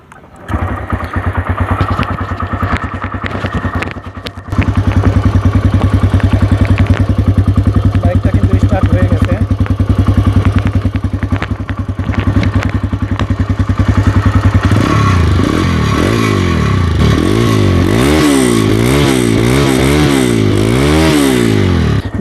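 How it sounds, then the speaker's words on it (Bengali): A TVS Raider 125cc motorcycle engine runs close by, a steady loud idle thrum with a clattering start that later swells into rising and falling revs; a voice talks faintly over it. "বাইকের সাউন্ড কোয়ালিটি কিন্তু খুবই ভালো মানের আছে"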